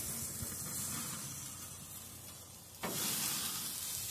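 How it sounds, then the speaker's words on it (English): Stuffed burger searing in a pan, giving a steady close hiss and sizzle that swells suddenly louder near the end, with no voices. "And now we want to sear it, so I'm going to close the lid so it sears it."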